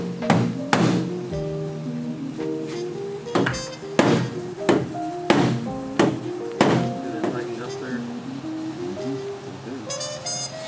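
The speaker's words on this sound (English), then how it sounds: "I'm gonna tap the bottom out, and hopefully that'll help the taillight rotate in at the top." A hammer taps out the bottom of a cut Honda S2000 quarter panel in a workshop, sharp metallic knocks in an uneven rhythm with ringing tones, repeated across the clip at close range.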